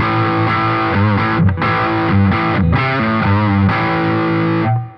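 Electric guitar played through a Boss ME-80 multi-effects unit in its tweed preamp mode gives a distorted, crunchy tone, with a run of strummed chords and single notes that rings out and then cuts off near the end.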